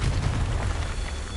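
Blasting spell exploding in Hogwarts Legacy: a dense, rumbling burst of low-heavy noise that fills the moment loudly and decays slightly over about a second, with no voices over it.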